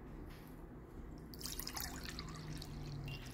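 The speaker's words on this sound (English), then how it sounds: "first I'm going to pour the water into the bowl." Water poured into a bowl as a classroom activity, a soft trickling, dripping pour that swells midway and continues steadily to the end, with no talk over it.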